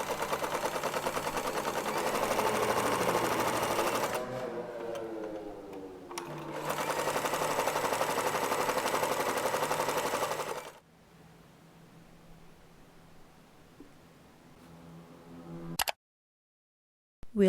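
A sewing machine stitches straight lines along fabric edges in two long, steady runs of rapid mechanical chatter, close and clear, separated by a brief pause and followed by quieter handling noise.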